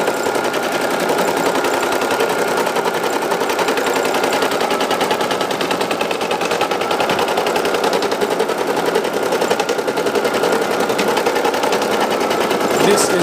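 An embroidery machine runs a placement stitch on thin black felt, a loud, fast, continuous needle rattle that holds steady and even throughout with no pauses.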